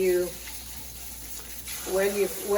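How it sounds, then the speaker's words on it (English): Parboiled rice, about ten cups, being washed in water in a kitchen: soft running and sloshing water throughout, with a voice talking over it near the start and end. "I have here about 10 cups of rice, so I'm just gonna wash it."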